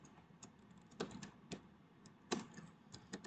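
Quiet keystrokes tapping on a computer keyboard while code is typed, an irregular run of light clicks with a few firmer strikes, close and alone.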